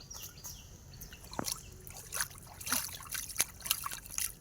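Water splashing and trickling in short bursts as meat is rinsed by hand, with sloshing and dripping sounds close by against a faint background hiss.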